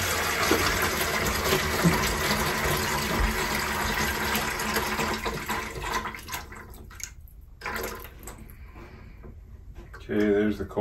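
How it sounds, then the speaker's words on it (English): Water drains out of kitchen plumbing fittings aboard a narrowboat under renovation, a steady close gush and trickle that thins and breaks up toward the end, with people talking throughout. "Okay, I'm about to drain water."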